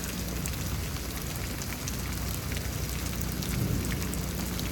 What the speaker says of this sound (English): definitely a little piece of hail. One just bounced off.